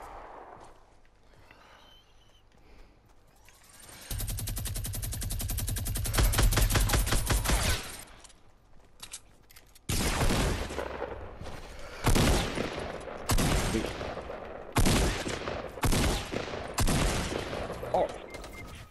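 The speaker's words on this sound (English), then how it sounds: "He's trying to shoot me." Gunfire in Fortnite Battle Royale: a dense, loud sustained burst of rapid shots, then a pause, followed by a string of sharp, repeated volleys of fire that come in quick separate bursts.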